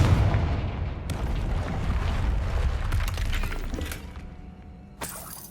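A Confringo blasting spell explodes in Hogwarts Legacy, a loud crashing burst with shattering debris that rumbles and rings out, then fades, with a fresh sharp crack near the end.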